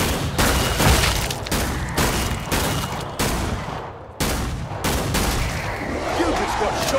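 Heavy gunfire from Killing Floor 2 on Hell on Earth difficulty on the KF-Burning Paris map: loud, close bursts of repeated shots separated by brief pauses, with short in-game voice lines mixed in.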